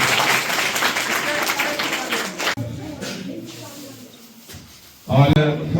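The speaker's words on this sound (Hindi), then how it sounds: "जोरदार तालियां सब लोग बजाएंगे।" Guests at a combined farewell and felicitation ceremony for Bhawani clap loudly for a few seconds. The applause then drops away to quieter room noise, and a voice comes in toward the end.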